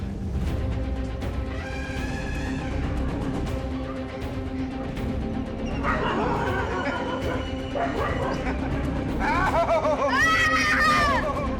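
A dog barks in short bursts as an elephant charges, amid a noisy crowd, with loud, busy background babble throughout.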